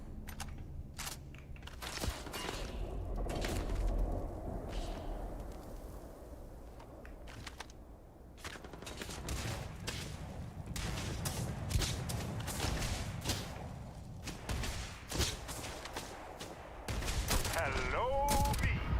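Gunfire in Starfield: dense bursts of shots and sharp cracks in rapid clusters with brief gaps, loud and close, over game sounds and faint clicking.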